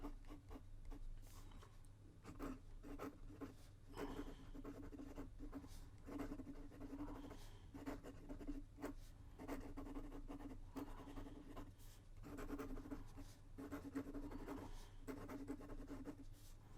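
Osprey titanium ultra-flex fountain pen nib scratching across paper in continuous strokes with short pauses between letters, soft and close over a low background hum.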